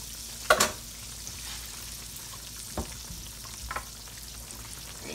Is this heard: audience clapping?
no